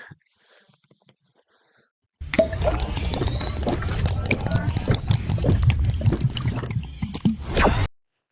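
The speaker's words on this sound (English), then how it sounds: "let me just drink my water" Someone gulps water in close, wet swallows that follow a few seconds of near silence, running several seconds before cutting off abruptly, with no talk over them.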